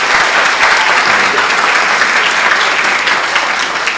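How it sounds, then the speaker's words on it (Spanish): An audience gives strong applause for a doctor, dense continuous clapping that stays loud and even throughout, with a faint crowd murmur underneath. "Quiero un fuerte aplauso para el doctor."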